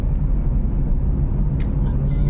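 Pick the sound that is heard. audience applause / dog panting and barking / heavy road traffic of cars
heavy road traffic of cars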